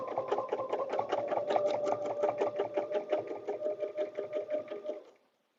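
A sewing machine runs steadily, stitching a paper-pieced butterfly block for a dresser scarf, its needle pulsing in a fast even rhythm, close and loud, for about five seconds before stopping abruptly.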